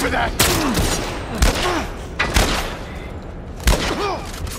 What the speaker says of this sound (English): I think I got shot from the back.